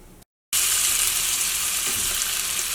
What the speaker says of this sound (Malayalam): ഇതിലേക്ക് നമ്മൾ വറുക്കാനുള്ള മീൻ വയ്ക്കാം